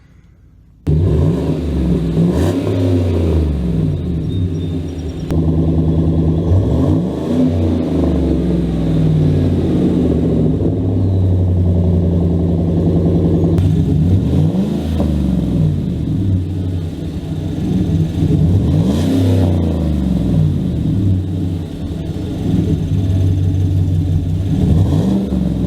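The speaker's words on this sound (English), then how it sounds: "This is his GMC Black Widow, and film his reaction to his new Gibson exhaust." GMC Sierra Black Widow pickup truck with a new Gibson exhaust, deep rumbling idle broken by repeated quick revs that rise and fall in roughly even bursts, loud and close, with no talk.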